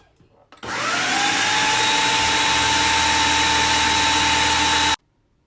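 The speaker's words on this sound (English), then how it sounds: "We're just gonna keep blending it until it becomes" A blender purees cauliflower with a steady, loud motor whir that starts abruptly, holds an even pitch for about four seconds, then cuts off cleanly, close by and without talk.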